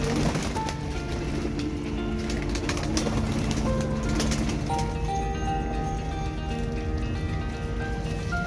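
Racing and mixed pigeons in a loft in Lahore coo steadily with overlapping soft, warbling calls. A constant background hum runs underneath, and no one speaks.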